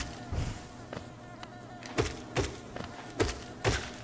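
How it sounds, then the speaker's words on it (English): Insects buzz in the Hollow Knight video game, a thin whine under a string of soft thuds and taps that repeat at irregular intervals. "Sound makes me think more like mosquitoes than bees."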